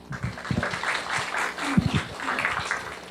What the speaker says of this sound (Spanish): especialmente con el aplauso de todos nuestros agremiados